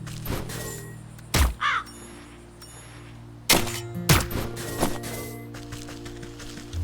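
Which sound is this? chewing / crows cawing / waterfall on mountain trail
crows cawing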